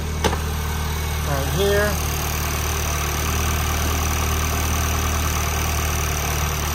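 2019 Volkswagen GTI engine runs at a steady idle, a constant low hum with a brief click near the start, while someone speaks a few words over it.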